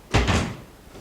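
A door closes indoors with one solid thud followed by a second softer knock, short and close, then a quiet room.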